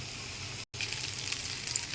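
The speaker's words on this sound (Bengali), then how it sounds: "ফুলকপি আলু করে ভাজা তৈরি হয়ে গেছে" Cauliflower and potato fry in oil in a pan with turmeric, chili and a bay leaf, giving a faint, steady sizzle that drops out for a moment and then continues.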